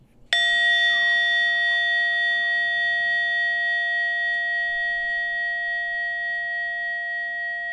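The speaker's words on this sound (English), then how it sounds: "in a moment, you'll hear a bell or a chime. Listen to it as it gets quieter and quieter" A single bell or chime strikes sharply and then rings on with a clear sustained tone, slowly fading over several seconds in an otherwise quiet setting.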